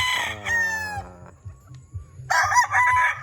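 Roosters at a game farm crowing loudly and close by, one long crow followed by another burst of crowing, with clucking and farmyard bird noise between them.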